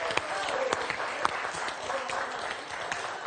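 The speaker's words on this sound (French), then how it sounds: "Ça s'applaudit, ça." A game-show studio audience applauds a correct quiz answer, with a dense, steady patter of clapping at moderate level and a few louder claps standing out.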